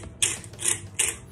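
A pepper grinder cranked over burger patties, three short ratcheting, gritty twists in quick succession, close and fairly quiet.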